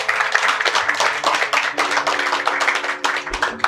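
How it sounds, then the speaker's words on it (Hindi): Audience clapping at a Haryanvi poetry recital by Vinod Bhatia, a dense run of many hands applauding close by, steady for the whole stretch with no pauses. "बढ़िया वाली तालियां बजा दो"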